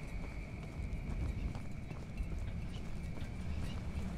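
Heavy, rhythmic footsteps of a monster in the horror game The Beast Inside clop along steadily, like hooves, under a faint high tone.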